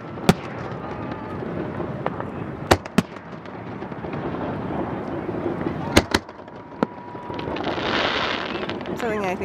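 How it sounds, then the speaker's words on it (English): Fireworks bursting in sharp, loud bangs at irregular intervals, heard from a boat, with crackling and a low rumble of crowd and water noise between blasts. "There's the fireworks."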